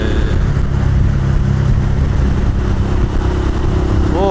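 A Honda Grom small motorcycle engine runs steadily at close range while riding, a constant low rumble with a slight throttle change near the end.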